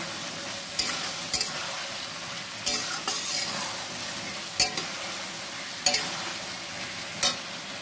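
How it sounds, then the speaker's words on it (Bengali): Steady sizzling of turmeric and Kashmiri chili powder masala frying in a pan, broken by a few sharp scrapes and taps of a stirring utensil against the pan, with no talking. "মশলা রেখেছিলাম হলুদ গুঁড়ো আর কাশ্মীরি লঙ্কা গুঁড়ো, সেটা পুরো দিয়ে দেবো, দিয়ে ভালো করে কষবো"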